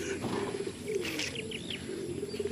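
Taiwan-breed racing pigeons coo softly inside a truck, low throaty calls with a few faint chirps over a steady engine hum.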